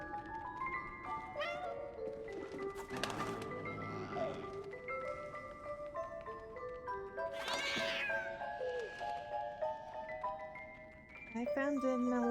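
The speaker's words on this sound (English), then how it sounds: "Why is that cat meowing?" A cat in the 11-11: Memories Retold game meows several times in a drawn-out, tonal voice over a layer of game music and ambience, with rising and falling cries spread across the scene.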